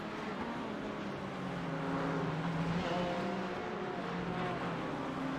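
Race cars threading through traffic at Circuit Gilles Villeneuve in a GoPro championship round, a steady mass of engine drone with overlapping whines rising and falling as several cars pass at moderate distance.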